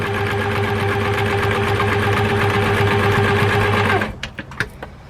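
A sewing machine stitches a quilt block along a drawn guide line, giving a loud, steady, rapid mechanical hum with a rhythmic pulse for about four seconds. It then stops abruptly, leaving a few faint clicks and taps.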